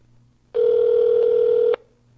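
A single steady telephone tone sounds clearly on a call to a customer service line, one unbroken beep lasting just over a second between quiet stretches.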